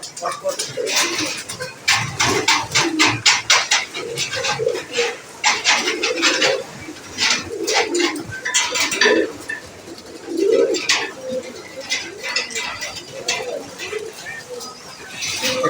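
Pakistani high flyer pigeons cooing close by in repeated soft bursts, with faint clinks and patter of movement around them and people talking over the birds.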